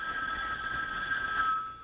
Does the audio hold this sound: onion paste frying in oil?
no